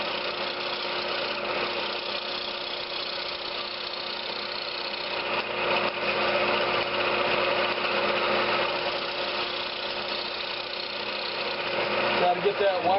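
A running wood lathe hums steadily while a tool scrapes maple wood, a continuous close whirring drone with faint rasping texture throughout, growing slightly louder near the end.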